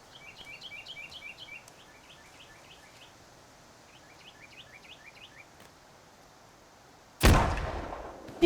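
A single sharp gunshot in the survival game Sons of the Forest bursts out loud near the end, after quiet forest ambience with bird chirps and insects.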